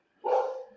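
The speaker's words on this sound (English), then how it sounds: "Sorry about the dogs barking in the background." A single dog bark sounds from the background indoors, one short, moderately loud bark with a slight trailing tail, standing alone without talk.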